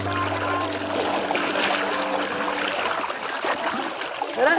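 River water in a Bihar village flows and splashes steadily during a river crossing, with a low hum early on that fades as the rushing water carries on.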